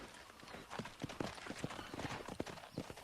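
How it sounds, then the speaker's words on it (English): Horse hooves clip-clop steadily in a rapid gallop down a hill and through brush in the Western video game Red Dead Redemption, the hoofbeats close and fairly loud over a dense background. "That horse just doesn't care. He just rides down the hill and through the brush"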